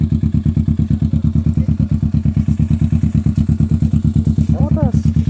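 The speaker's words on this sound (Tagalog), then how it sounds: "yun guys ang motor natin." Motorcycle engine, mud-splattered, runs close by with a steady, rapid thumping putter throughout, loud and even, with brief high chirps near the end.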